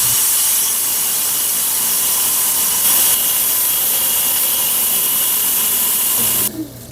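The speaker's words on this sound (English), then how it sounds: "let's go ahead and give it a rinse" Water rinsing a freshly cut agate slab from an Agua Nueva vein, a loud, steady hissing spray close by that runs without a break, then cuts off abruptly near the end, leaving a low hum.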